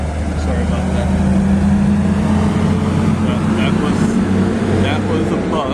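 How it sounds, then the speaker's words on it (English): A school bus rumbles past, a steady low engine drone that holds loud and close for several seconds with no clear rise or fade, as heard from a car's driver seat. "That was a bus that decided to pass"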